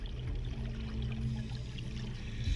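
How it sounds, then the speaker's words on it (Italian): Underground river flowing through a Maya cave, giving a low, steady rushing and gurgling wash of water that stays fairly faint and continuous throughout. "È effettivamente un fiume insuperabile."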